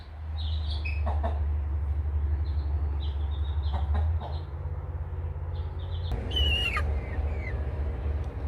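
Baby chicks peep in short, high chirps, scattered and repeated, over a loud, steady low hum.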